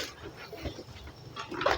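A dog howls and whimpers near a home kitchen where bamboo shoot curry is being cooked, a moderately close, wavering canine cry.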